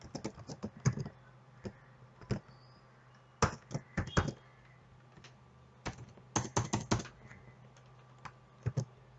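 PHP code is typed on a computer keyboard in quick irregular bursts of close, crisp key clicks, separated by short pauses, with no voices.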